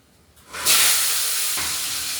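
Small onions, garlic, green chilli, curry leaves, coriander leaves and tomato drop into hot oil after cumin, bursting into a loud sizzle that settles into a steady hiss, close by.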